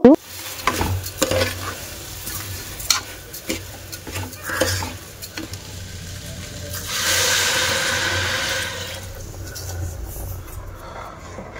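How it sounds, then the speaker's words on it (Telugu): Rice stirred in a pan with curd while it fries, with a steady sizzle under scattered scraping and clinking strokes and a louder hiss swelling midway, close with no talking. "జస్ట్ ఒక 2 minutes అలా పెరుగుని ఫ్రై చేసిన తర్వాత వెంటనే ఇంకా రైస్ యాడ్ చేసేసుకోవాలి"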